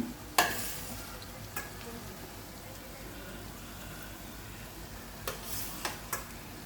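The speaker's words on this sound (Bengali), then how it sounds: "ভেজে রাখা সবজি দিচ্ছি।" Pre-fried vegetables go into a wok and are stirred. A faint, steady sizzle runs throughout, with a sharp spatula clank at the start and several lighter scrapes and clinks near the end.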